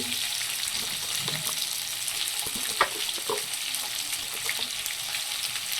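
Chayote, brinjal and radish sizzle steadily while being sautéed in a pot for one-pot sambar rice, a continuous close frying hiss with occasional stirring scrapes and clinks.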